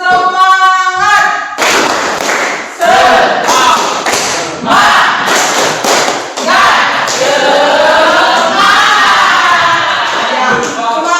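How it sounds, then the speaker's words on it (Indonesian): A classroom of students performs the rhythmic tepuk semangat spirit clap. Loud, close bursts of claps land in quick unison patterns, mixed with shouted group chanting, after a brief voice at the start. "Tepuk semangat."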